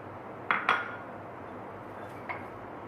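Omelette batter with tomato, onion, green chilli and coriander being mixed in a bowl, a few sharp spoon clinks against the bowl amid a quiet background, the first two close together and one fainter later.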